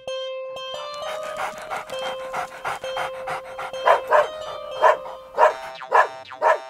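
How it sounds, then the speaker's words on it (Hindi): A dog pants steadily with a tonal whine, then breaks into a run of short, evenly spaced barks, close and clear with no talking. "क्यों भौंक रहे हो?"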